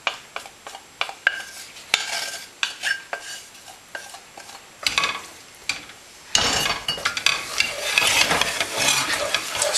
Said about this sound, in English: Mix in the sun-dried tomatoes, onions, chili,